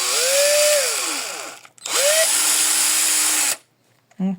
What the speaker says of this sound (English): We now take a 1mm drill bit and we are drilling another hole through.